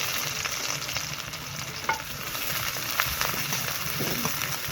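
Cumin seeds and onion frying in hot oil for a Bengali tempering, a steady soft sizzle with a few light crackles and spoon scrapes, heard alone without talk.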